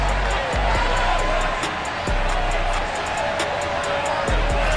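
Stadium crowd roaring steadily at FedEx Field in a Madden 22 football game, Giants against Washington, a broad continuous wash of noise with occasional sharper pops and thumps, loud and filling throughout.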